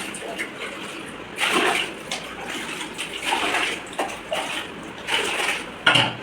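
Repeated bursts of water being scooped and poured, sloshing in a container at close range, with brief pauses between each dip.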